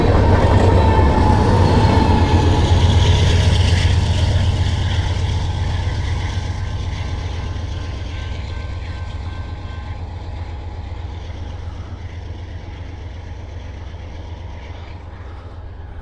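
A laboring train giving off exhaust fumes rumbles past at close range, loud and continuous, with a heavy low roar that slowly fades as it moves away.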